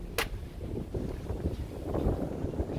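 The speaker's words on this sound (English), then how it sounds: "It's windy." Steady wind buffeting a microphone at an outdoor car meet, low rumbling gusts throughout, with a brief sharp hiss near the start.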